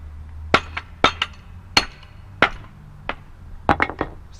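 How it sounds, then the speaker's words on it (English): A mallet strikes the wedge of a manual log splitter with about eight sharp, ringing metallic blows at irregular intervals, loud and close, with quiet pauses between hits. "you just take the mallet and slap it once and it'll just split itself after that once it's halfway through"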